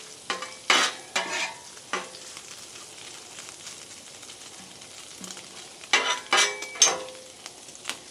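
Bacon renders and crisps on a griddle for bacon jam smash burgers, a soft steady sizzle punctuated by a few louder scraping bursts of a spatula moving the strips, with quieter stretches between.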